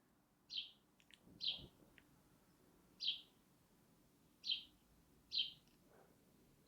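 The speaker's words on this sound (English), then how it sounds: "there is just the sweetest cheap chirping bird" A small bird chirps outdoors in five short, high, bright calls spaced irregularly over a quiet, faint background, with no voices.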